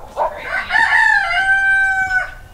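A rooster crows once, a loud, close, rising and sustained call behind a greenhouse warmed by a wood heater. No voices over it.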